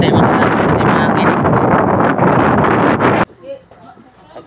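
Loud, continuous wind roar buffeting the microphone as a boat moves fast toward Leyte in windy weather, cutting off abruptly into quieter ambience near the end.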